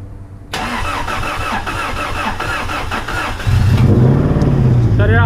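A repaired car's engine is cranked and fires up close by. A steady mechanical roar is followed by a louder surge as it catches and settles into a rough idle.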